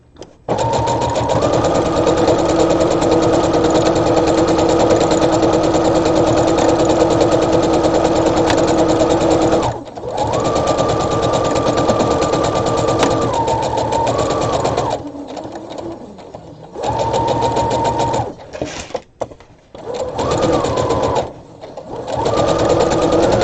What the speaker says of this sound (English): I'm just going to stitch right over it.